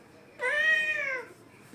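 A child imitates a cat's crying meow, one long drawn-out wailing mew lasting under a second, close and clear against a quiet room.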